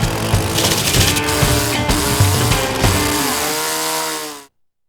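A large radio-control model engine runs flat out, a loud, steady, buzzy high-revving drone close by that cuts off abruptly at the end.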